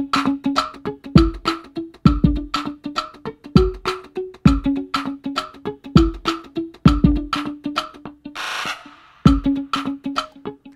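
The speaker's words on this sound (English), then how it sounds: "I added a muted guitar." Muted guitar plucks in a steady rhythmic pattern, short and dampened, with a punchy low thump on the beats and a brief noisy swell near the end.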